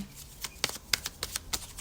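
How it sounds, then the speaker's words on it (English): Tarot cards riffled and shuffled in quick, crisp slaps and flutters, several sharp bursts in a row, close and fairly loud. "So I'm just going to shuffle your cards."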